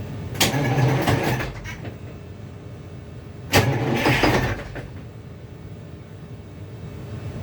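A Detroit 6V92 diesel engine, cold and not run for about four days, cranks and fires in two loud, rough bursts a few seconds apart, with a lower rumble running between and after them.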